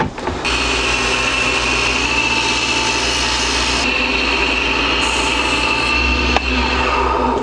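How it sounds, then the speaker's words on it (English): A powered sander whines loudly and steadily as it smooths a carved wooden frog fishing lure, the motor tone shifting slightly in pitch as pressure on the workpiece changes, with no voices. "I'm gonna go ahead and sand it."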